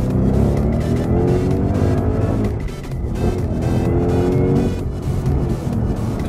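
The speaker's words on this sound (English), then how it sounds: "here's a little second gear pull with 670 horsepower" A 670 hp 2017 Ford Mustang pulls hard in second gear, its loud engine climbing in pitch, with a shift or lift partway through before it roars on, heard from inside the car.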